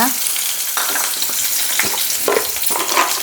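Onion sizzling in hot oil in a pan while cooking a paneer and green pea dish, a steady crackling fry with a few sharp spatters and stirring scrapes, close and loud.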